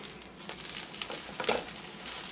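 Eggs frying in a pan for a stuffed breakfast sandwich, a close, steady crackling sizzle with soft scraping as they are pushed together, no voices.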